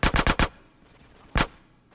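In GTA San Andreas, a quick burst of four loud gunshots comes first, then a pause and one more loud shot, each one close and sharp with a short echo.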